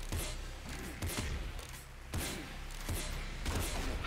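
Blood minigun firing in the video game Nuclear Throne: rapid bursts of gunfire with hard impacts, coming in several loud clusters over a steady game background.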